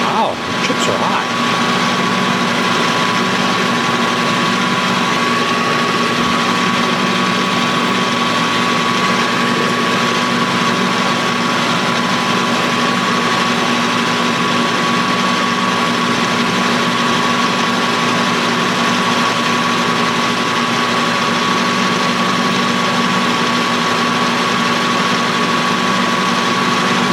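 Metal lathe turning a crankshaft, a steady loud mechanical drone with a constant whine running throughout, no breaks in the cut.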